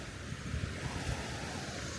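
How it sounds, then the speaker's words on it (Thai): Sea waves wash onto the beach beside a seaside campsite at Samaesan, a soft steady surf with gentle swells and a little wind noise, heard alone at low volume. "ฟังเสียงคลื่น นอนหลับสบาย"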